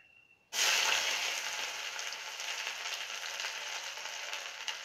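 Minced garlic hits hot oil in a pan where red chillies have already been fried, setting off a sudden loud, steady sizzle that carries on close and alone for several seconds.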